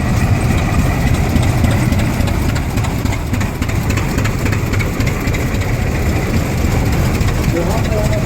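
A Model B 25-45 Crawford kerosene oil pull tractor engine runs steadily in a parade, a dense low rumbling drone heard up close with people talking over it.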